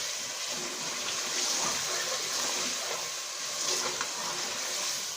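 Steady broadband sizzle of masala frying with meat and potatoes for aloo gosht as a little water goes into the pan, a continuous hiss with slight surges, close and fairly soft, no voices.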